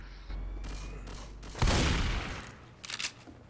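Shotgun fire in the zombie game Left 4 Dead 2: one loud, booming blast with a long decaying tail after a steady background rumble, then a quick cluster of fainter shots and impacts near the end.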